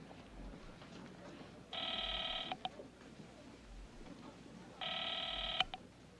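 A 1930-era telephone rings unanswered, two long buzzing rings separated by a pause, heard faintly in a quiet room.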